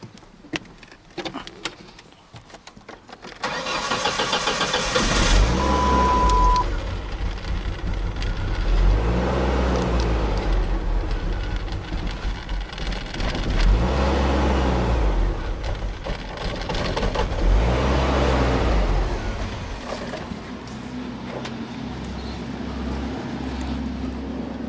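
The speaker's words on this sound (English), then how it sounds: "Engine was running." A 1999 Ford Ranger 2.5L four-cylinder with a fuel pressure problem cranks for a few seconds, then catches and runs loudly and close, its idle surging up and down in slow waves before settling to a steady rumble.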